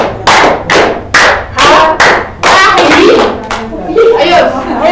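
A primary school class claps in sharp rhythmic bursts for the tepuk semangat spirit clap, about a dozen loud close claps in short groups, followed by children chanting together.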